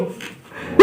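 A person imitates a dog's bark, with a single short, loud woof bursting out at the very end after a quiet, breathy lead-in.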